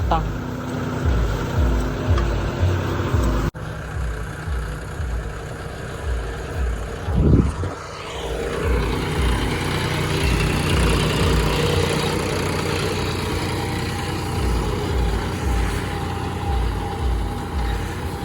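A green John Deere tractor forms ridges in a farm field in Punjab, its engine rumbling steadily and loudly up close, a throbbing low idle that shifts in pitch partway as the load changes.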